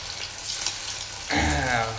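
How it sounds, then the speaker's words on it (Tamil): Pakoda fries in hot oil, a soft sizzle that swells suddenly into a louder bubbling hiss partway through, close up. "இப்போ நல்லா இது பக்கடா போட்டு வறுத்து எடுக்கலாம்"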